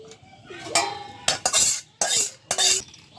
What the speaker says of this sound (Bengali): প্রেসার কুকারে ডাকনিটা লাগাই নিলাম, চুলায় বসাই দিলাম।